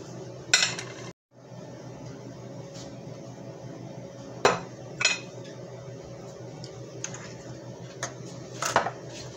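Beef marinade made with baking soda, cornstarch, soy sauce and sesame oil is stirred in a bowl. A utensil clinks and knocks against the dish in a few sharp taps spread over quiet, faint mixing sounds.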